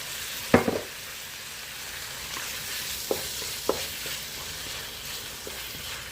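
Bitter melon frying in a pan with sweet chili sauce, a soft continuous sizzle with a few sharp clicks of a utensil against the pan, close and steady with no talk.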